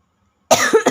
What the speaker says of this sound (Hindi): सॉरी, बहुत खांसी हो रखी है।